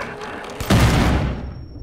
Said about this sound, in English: you fire them with a shotgun to the head